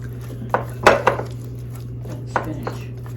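Ingredients for a ham and cheese appetizer, carrots and onions among them, are mixed in a bowl, with a handful of distinct clanks and scrapes of a utensil over a steady low hum.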